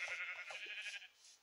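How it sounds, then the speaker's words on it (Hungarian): A sheep in Minecraft bleats in a wavering, nasal call lasting just over a second, close and clear, with no talk over it. "Ja, van fekete birka is."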